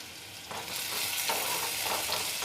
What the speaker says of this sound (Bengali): এবার একটু নাড়িয়ে দেখে নেব।